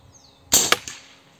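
A single shot from an air rifle fitted with a Slug Monster kit and Fiora 600mm barrel, firing a slug: one sharp, close crack with a brief metallic ring, followed by a small secondary impact tick and quiet decay.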